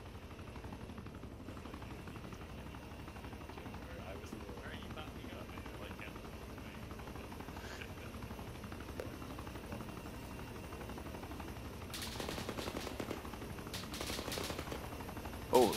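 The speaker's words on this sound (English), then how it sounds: "Oh, looks like there's helicopters taking fire." Distant gunfire and helicopter rotor noise from an ArmA 3 combined-arms battle, a low rumbling bed with faint scattered shots and a burst of sharper crackling near the end, under someone talking.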